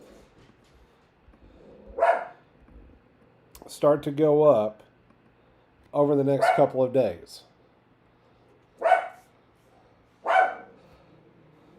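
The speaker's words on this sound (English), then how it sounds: "My dog is not happy the neighbors are parking their car." A dog barks at neighbors parking their car, letting out a few short, separate barks spaced several seconds apart while someone talks in between.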